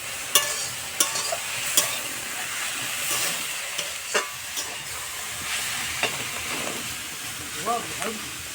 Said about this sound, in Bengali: দেখুন বন্ধুরা আমাদের এই লাউ শাকের পাতার ভাজাটা হয়ে এসছে